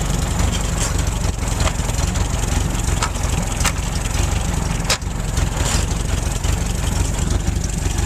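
A Model A Ford engine running with a steady low rumbling idle, loud and close, with a few sharp clicks and knocks over the top.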